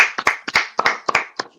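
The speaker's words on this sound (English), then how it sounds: "Just clap for myself there." One person claps for himself, about ten sharp, close hand claps in quick uneven pairs, dry and alone with no talk.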